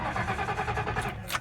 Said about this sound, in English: Now we're going to start the car.